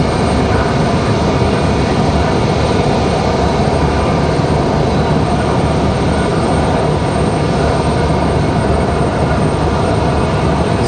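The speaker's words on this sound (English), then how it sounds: "This will be our first departure of the show." A jet airliner departs Raleigh-Durham International Airport, its engines roaring loudly and continuously at close range with a broad, steady rumble and no talk.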